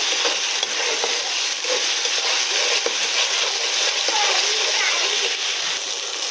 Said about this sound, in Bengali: পেস্ট করা আদা রসুন ভালো করে লাল করে নেব।